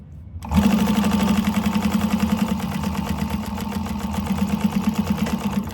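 A sewing machine stitches a fabric candy bag, starting after a brief pause and then running steadily and close by with a fast, even mechanical rattle of the needle throughout.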